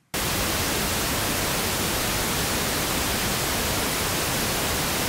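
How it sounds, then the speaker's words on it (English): Loud, steady white noise after flattening with an EQUO equalizer, starting abruptly after a brief silent instant and holding an even, broadband hiss to the end. "Your white noise is now truly flattened."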